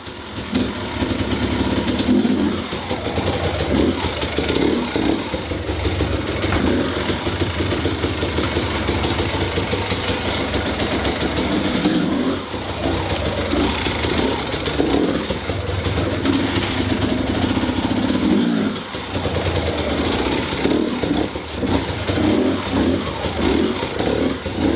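A dirt bike engine idles steadily and loudly inside a garage during a slow pivot turn, a continuous close throbbing rumble with occasional clattering and small shifts in pitch.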